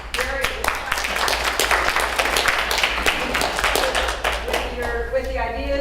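A city council retreat audience claps together, a steady wash of hand claps filling the room at moderate loudness, with voices murmuring underneath and a speaker starting to talk near the end.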